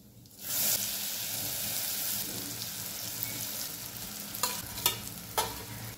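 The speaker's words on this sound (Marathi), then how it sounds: "मंद गॅसवर डाळ छान परतून घेऊया।" Dal sautéing over low gas in hot oil with crackled mustard seeds, cumin, asafoetida and curry leaves gives a steady close sizzle, with a few stirring clatters toward the end.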